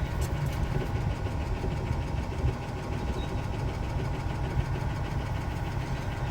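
The engine of a 2008 Yamaha Drive G29 golf cart idles steadily and close by, a continuous low, slightly knocking rumble with fine rapid pulsing and no talk.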